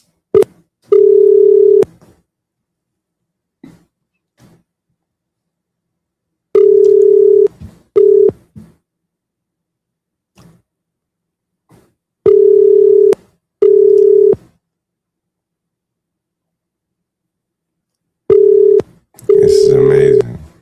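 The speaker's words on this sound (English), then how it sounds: "let me call this guy one more time here" Outgoing telephone call ringing out, a steady dial-tone-style ring sounding in repeated paired bursts separated by silences, loud and close, with brief faint talk between rings and a burst of noise near the end.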